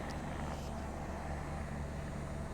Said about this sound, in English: It's a helicopter taking off right over there.